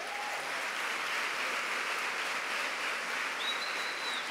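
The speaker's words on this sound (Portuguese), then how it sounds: "Vamos aplaudi-la?" Steady, dense applause from a crowd fills the whole stretch at an even level, with no voices over it.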